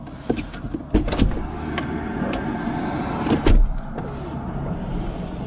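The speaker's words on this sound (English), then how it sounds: "I just had to wait for the truck" A vehicle passes by along a road in the background, giving a steady moderate rumble with a few sharper knocks and a louder swell near the end, with no speech.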